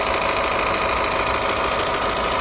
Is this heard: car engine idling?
yes